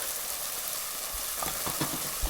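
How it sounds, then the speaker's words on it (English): A soft, steady sizzle of a paste frying in melted butter in a pan, with a few stirring bumps and scrapes near the end. "we're going to add the glorious paste right in and allow it to saute, sizzle and just cook"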